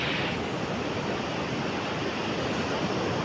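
Ocean surf breaking on the beach at Strand on a sunny day, a loud continuous roar of waves wash filling the whole span, close and steady with no voices.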